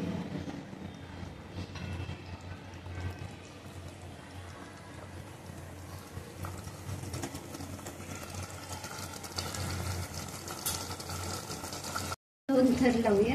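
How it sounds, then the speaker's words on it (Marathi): Jackfruit biryani gravy boils in a pot, giving a steady, dense bubbling hiss that runs almost unbroken, with a voice speaking over it before a brief cut near the end. "आता थोडा वेळ परत आपण त्याला उकळी आणूया."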